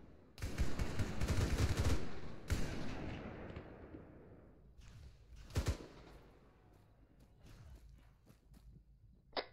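Machine gun fire from a vehicle in Arma 3: a long, loud, booming burst up close, then fading rumble and a few isolated heavy shots further off.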